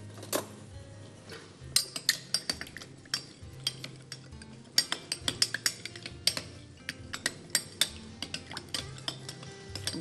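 A utensil stirs a dish seasoned with oil, salt and pepper during a television cooking segment, giving repeated close clinks and scrapes against the pot in an irregular rhythm, with no voices.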